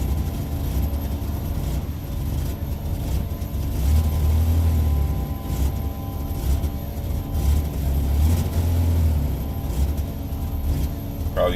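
A BMW E36's M52 engine runs steadily during a throttle response test, with a low droning hum that swells a few times. No one speaks.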